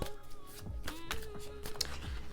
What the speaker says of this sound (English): And this time I'm actually shuffling on the camera today.